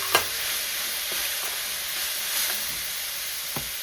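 Potato pieces go into a hot pan of spiced oil with turmeric for vada pav filling, giving a steady close sizzle and hiss, with a few sharp clinks of a spoon stirring.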